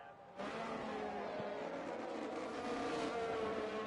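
McLaren race car in a sim racing game on the Singapore circuit, its engine roaring loud and steady at high revs after a sharp start, with a rising whine near the end.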